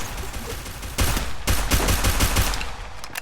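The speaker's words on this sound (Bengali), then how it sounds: "মারো রে মারো রে শটগান শটগান। মারো মারো মারো উপর থেকে মারো গুলি চালাও" Shotgun fire in a shooter video game comes as a burst of heavy blasts, several shots in quick succession, loud and close over a busy background.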